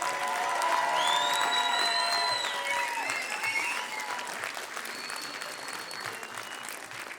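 Concert audience at a live music show applauding and cheering steadily, with tonal whistles and shouts rising over dense clapping that fades slightly toward the end.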